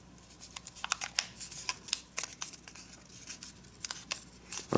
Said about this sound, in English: let's fold this edge down if you want a hairline